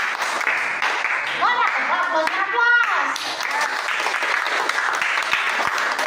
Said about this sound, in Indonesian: itu beri aplaus dulu dari aplaus